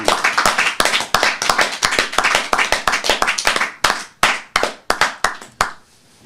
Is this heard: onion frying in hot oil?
no